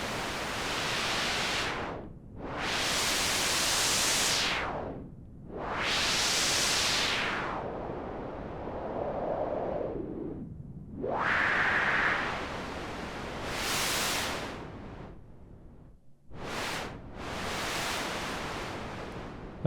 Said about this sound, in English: Now we're going to try and filter a little white noise.